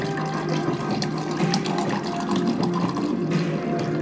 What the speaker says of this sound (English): Start pouring now.